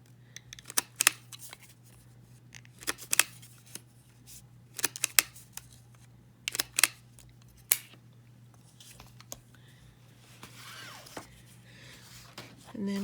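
Marinated chicken pieces are not relevant here; a Crop-A-Dile hand tool works on paper for a gift bag, giving a string of sharp crunching clicks and paper rustles in uneven bursts, close by, with quiet handling between.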